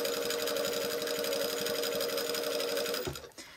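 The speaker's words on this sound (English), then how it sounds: "I'm winding another bobbin as I'm sewing here." A sewing machine stitches steadily while a bobbin winds, a fast even mechanical whir and patter that runs close and continuous, then cuts off near the end.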